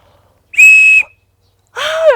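A handmade reed whistle is blown twice, close and loud: a steady, clear high tone about half a second long, then after a pause a second blast that starts breathier and bends downward in pitch.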